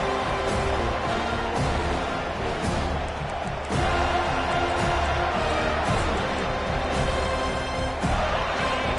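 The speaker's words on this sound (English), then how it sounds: "The roar of the crowd trying to fuel this defense to keep them pinned in their own end" A stadium crowd roars steadily at a football game, a loud continuous wash of noise with occasional swells.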